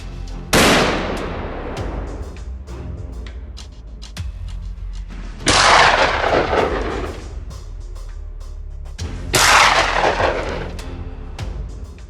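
Three loud gunshots boom during live-fire shooting drills, each followed by a long rolling echo that fades over a few seconds, with softer cracks in between.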